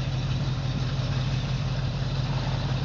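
A 1966 Ford Mustang Fastback with a 289 cubic inch V8 and an automatic gearbox idles close by, giving a steady low rumble with an even throb and no other sounds.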